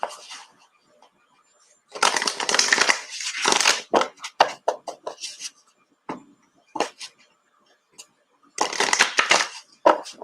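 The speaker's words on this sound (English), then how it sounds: "I will give it another shuffle." Tarot cards are shuffled in close, rustling bursts with short gaps and scattered taps and clicks between them, and no talking over them.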